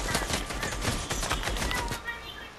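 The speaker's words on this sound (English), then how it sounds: "He's shooting me through the walls." Rapid Fortnite gunfire, a fast continuous burst of shots for about two seconds that then cuts off, loud and close with game sounds around it.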